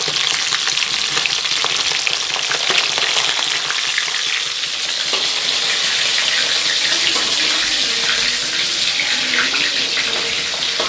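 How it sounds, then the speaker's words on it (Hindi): Fish sizzling loudly in hot oil in a pan, a dense continuous crackle and hiss heard up close with no talking. "और ये मछली हो गया है फ्राई यहाँ पे।"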